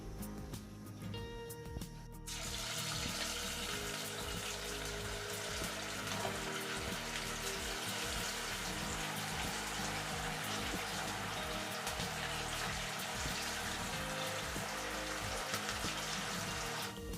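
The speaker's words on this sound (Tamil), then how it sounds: "இப்போ இதை ஆயிலில் போட்டு பொரிச்சு எடுக்கலாம்." Aval bonda, balls of flattened rice dough, drop into hot oil in a pan, and a loud, steady frying hiss like heavy rain starts after about two seconds and carries on alone.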